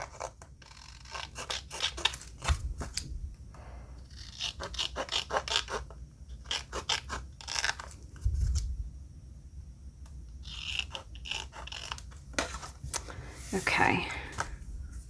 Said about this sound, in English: So I'm just cutting this by hand, so it's not going to be super, super straight.